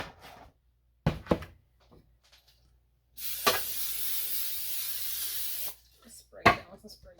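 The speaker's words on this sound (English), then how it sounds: "Just spray it down with some spray grease" A steady hissing spray of cooking grease into a pan lasting a few seconds, loud and close, with brief clattering knocks before and after.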